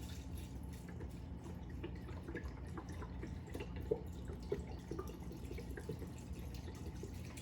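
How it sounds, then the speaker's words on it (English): Chicken broth is poured into a soup pot, a continuous soft liquid trickle with small drip-like splashes, steady and fairly quiet throughout. "So, I'm going to pour some chicken broth in here."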